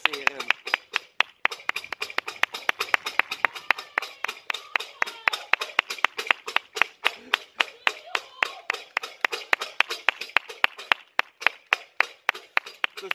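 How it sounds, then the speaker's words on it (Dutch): Rhythmic hand clapping at noon as neighbours join in applause for care workers, steady and fairly close with many sharp claps in a continuous run, accompanied by faint voices. "Dus mijn geburen doet dus ook echt mee met het applaus"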